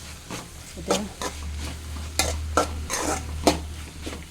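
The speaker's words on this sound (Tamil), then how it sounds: "அரைப்பை சேர்த்தாச்சு சேர்த்து நல்லா கிண்டி விடணும்" Ground paste is stirred into a ridge gourd stir-fry in a pan, with repeated rhythmic scraping strokes of a spoon against the metal over a gentle sizzle, close and without talk.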